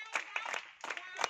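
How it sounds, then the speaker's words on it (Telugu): A few people clap in several short, ragged bursts, the claps close by, with a voice mixed in among them. "క్లాప్స్."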